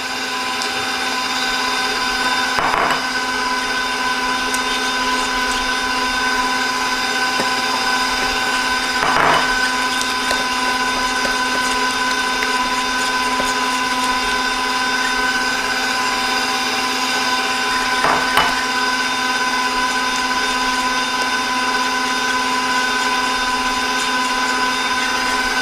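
An electric mixer blends egg yolks into chocolate for a mousse, one yolk at a time, with a steady motor whine and no voices. Faint knocks are audible now and then.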